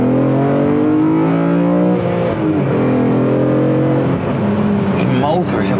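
A BMW E46 M3 CSL engine revs and holds a deep, rising drone close by, its pitch shifting as it accelerates, with a voice speaking over it.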